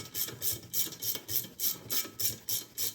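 A ratcheting wrench loosens a long 14 mm bolt on a Yamaha secondary clutch, giving a steady run of rhythmic clicks, fairly quiet and close with no talk.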